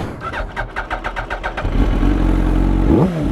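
A motorcycle damaged in a crash with a car cranks in rapid rhythmic pulses for over a second, then catches and settles into a loud, close, steady idle with a short rev near the end.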